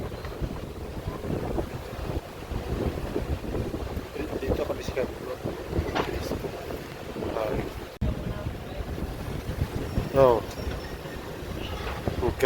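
Steady wind rushes and buffets the microphone outdoors at Eastwood City, Quezon City, with people talking over it throughout.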